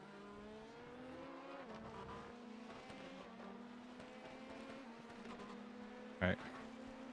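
Race car engine in an iRacing endurance race at Le Mans, a faint steady drone with shifting pitch that runs throughout, and a brief click near the end.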